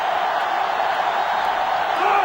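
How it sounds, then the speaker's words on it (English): A sellout stadium crowd at a football game roars in a steady, dense wash of noise, loud and unbroken, with a few whoops rising out of the din. "This sellout crowd is really making a difference now as these guys can't even call the play"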